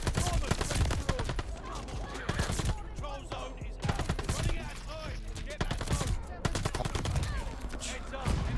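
Rapid, loud gunfire from a Call of Duty Vanguard match, with repeated sharp shots and bursts in an irregular rhythm throughout, close and punchy against a busy game background.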